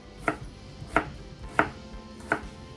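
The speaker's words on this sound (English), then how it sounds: "some red onion chopped up for him" Four crisp knife chops land on a cutting board as red onion is cut, evenly spaced, close and clear with nothing else heard.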